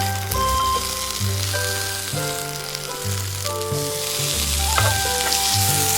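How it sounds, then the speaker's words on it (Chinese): Thick omelette fries in a pan with small sausages and cherry tomatoes, giving a loud, steady, close sizzle with some stirring and scraping, with no voices. "最后再加入几粒小香肠和圣女果，煎制一下。"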